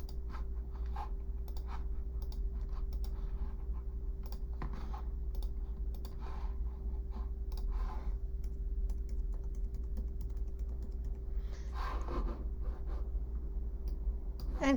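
Test data typed into an online application form on a computer keyboard, a close, steady run of soft key clicks with occasional mouse clicks over a low background hum, no talking.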